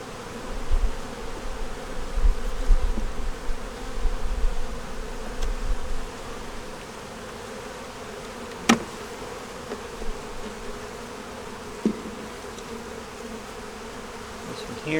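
Honey bees buzz at an open hive frame with a little honey on it: a continuous close insect drone with some louder low handling bumps early on, and no talk.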